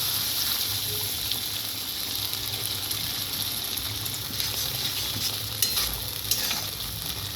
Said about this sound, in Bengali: একটু হালকা করে নাড়াচাড়া করব